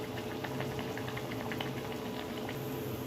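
Rava appam fries in hot oil with a continuous, dense bubbling hiss that stays even and close throughout.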